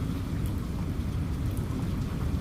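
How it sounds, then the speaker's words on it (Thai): A thunderstorm sound effect with heavy, continuous rain and a low rumble of thunder underneath, steady and enveloping throughout. "ฟ้าร้องคำราม ต้นไม้ล้มระนีระนาด น้ำป่าก็ไหลหลาก"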